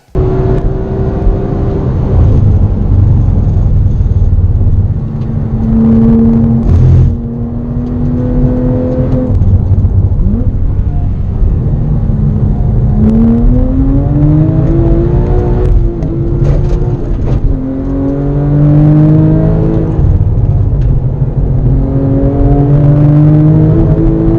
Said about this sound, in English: you probably will be able to hear the vibrations when I am applying the brakes before entering corners